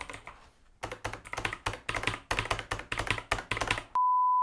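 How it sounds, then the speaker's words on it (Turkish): Blue-switch mechanical keyboard, a Rampage Strike RMK GX7, typed on rapidly at close range, with a steady run of crisp, clicky keystrokes followed by a sharp, sustained electronic beep at the end. "Blue Switch'in çıkardığı sesi ben çok seviyorum."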